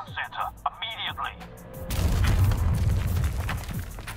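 Explosions go off in the video game Liberated, a deep booming rumble that swells at the midpoint and continues heavily after a stretch of quieter game sounds and tones.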